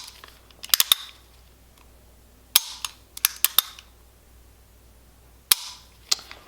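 A 1911 pistol being dry fired after disassembly, giving sharp metallic clicks and snaps from the slide and trigger in small clusters separated by quiet gaps, close and crisp.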